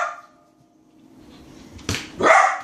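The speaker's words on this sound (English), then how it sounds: "Oh, the dog." A dog barks indoors during a game of indoor soccer with a ball, giving two sharp, close, loud barks near the end after a quiet stretch and a faint whine at the start.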